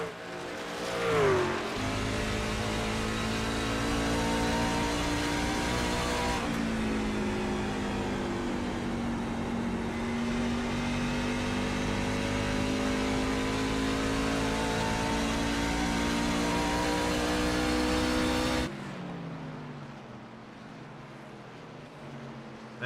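Racing truck engines roar steadily on the Iowa racetrack, a loud sustained drone with shifting pitch as trucks pass, dropping off sharply near the end to a quieter, more distant hum.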